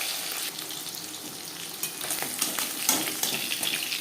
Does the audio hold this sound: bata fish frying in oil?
yes